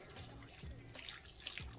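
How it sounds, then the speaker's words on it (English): Ice water poured into a bowl of sausage seasoning and cheese for homemade venison bratwurst, a faint, brief trickling splash of liquid with no talking. "I'm also going to add some ice water"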